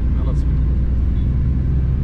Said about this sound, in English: now we are on the incline, we are on 3rd gear and still without knocking we made it